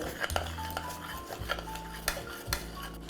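Batter being mixed for rava idiyappam in a bowl, with a utensil clinking and scraping against the sides in irregular strokes, close by and moderately loud, no talking.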